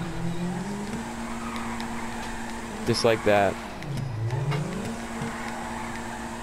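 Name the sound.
car drifting with counter steer and handbrake in a video game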